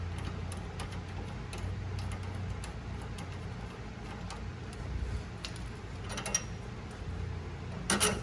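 Ratchet wrench working on the tie rod of a 2010–2013 Range Rover L322 during a rack and pinion job, giving faint repeated clicks and ticks over steady shop hum, with a brief louder burst near the end.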